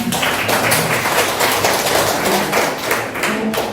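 At a lecture on Korean city bus policy, an audience gives the lecturer a full round of dense, steady applause that stays loud from start to finish with no talking over it.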